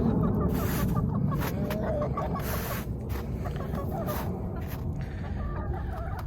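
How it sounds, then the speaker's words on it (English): Chickens in a winter coop with deep litter in Minnesota cluck and murmur close by, a busy cluster of short clucks and soft calls over a constant low rustle. "Hey, chickens."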